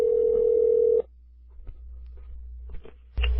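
A telephone dial tone hums steadily for a second, then cuts off, followed by quiet handling and faint clicks as a number is dialed before another tone begins.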